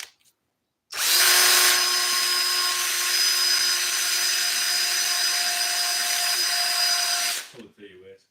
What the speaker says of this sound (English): Wesley's gonna take and turn that drill on it, and whenever we pull it, it's gonna make a really good stiff piece of wire